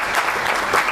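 Audience applause fills a conference room at a capital markets high school quiz event, a steady dense clatter of many hands clapping close by, with no voices over it.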